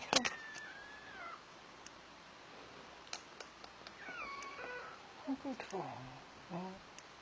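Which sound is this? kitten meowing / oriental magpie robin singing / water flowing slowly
kitten meowing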